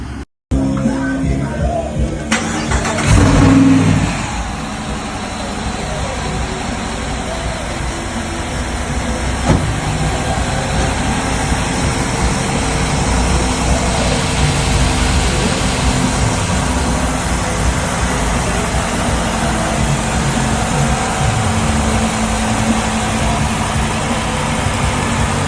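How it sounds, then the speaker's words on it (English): A supercharged Jeep Wrangler Rubicon 392 V8 runs on a dyno with a loud, sustained engine roar and a hissing, whooshing layer throughout, opening with a few rough bursts before settling into a long steady pull. "throw this on the dyno and see what kind of numbers it makes"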